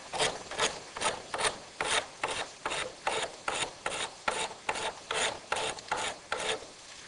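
A blade drawn across the coarse side of a sharpening stone, steady rhythmic rasping strokes about two per second, close and clear with no talk.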